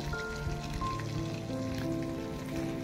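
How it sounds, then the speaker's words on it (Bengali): Whole garam masala and a little cumin crackle and sizzle in hot mustard oil, a dense continuous frying hiss heard up close, mixed with steady tonal background sounds. "সর্ষের তেল দিয়ে এবার আমি গোটা গরম মশলা ফোড়নে দিয়ে দেবো"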